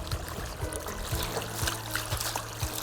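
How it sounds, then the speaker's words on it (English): Water trickles softly and continuously from a Japanese garden fountain, a gentle close-up dribble with faint low bubbling underneath. "See, this is a fountain."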